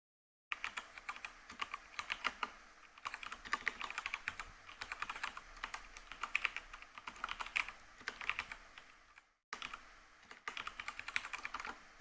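Steady typing on a computer keyboard, quiet and close, with quick clusters of key clicks, a short pause partway through before the tapping resumes.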